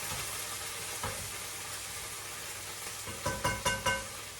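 Maggi noodles being mixed in a sizzling pan, a faint steady hiss with a few soft scrapes and a quick run of three louder stirring knocks near the end.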